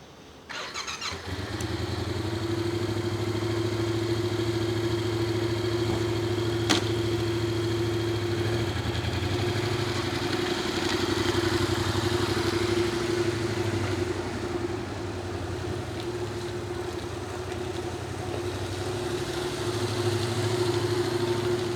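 A Yamaha MT-07 motorcycle engine starts and settles into a steady, loud, close idle, holding a continuous low rumble for about twenty seconds with no talking.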